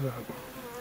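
A faint, steady buzzing of honey bees hums in the background at a hive, with a brief low voice at the very start.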